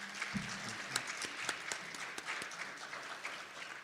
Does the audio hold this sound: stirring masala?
no